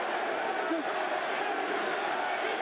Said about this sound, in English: Crowd trying to get behind Andy Ruiz